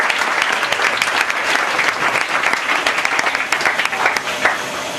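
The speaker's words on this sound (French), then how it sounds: "Et acclame Jésus." Church congregation applauding and cheering for Jesus during a sermon, a dense, steady wash of clapping from a large crowd with scattered shouts, loud and continuous throughout.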